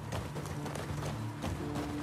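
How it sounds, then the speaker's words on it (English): A horse gallops in The Last of Us Part II video game, steady rapid hoofbeats pounding close and loud throughout with a constant rumble of movement. "Let's gallop a little bit."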